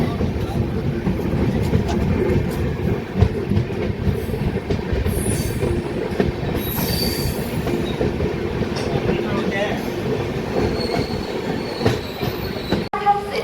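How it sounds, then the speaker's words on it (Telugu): The Charminar Superfast Express passenger train rumbles steadily with low, continuous rolling noise and occasional wheel squeals, loud and close throughout, departing Nellore railway station. "మన ట్రైన్ అంతా బయలుదేరుతుంది"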